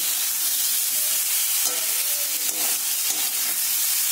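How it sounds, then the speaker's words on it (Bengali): Potatoes and pointed gourd sizzle steadily in hot oil in a pan, a dense continuous frying hiss with a few faint clinks of stirring, close and alone without any talk. "এই যে দেখো আলু পটলটা ভাজা ভাজা হয়ে গেছে"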